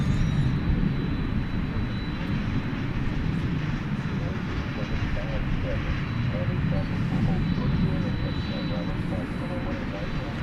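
Airliner arriving at DFW Airport at night, a steady loud roar of engines throughout, heard from a distance, with a person talking over it.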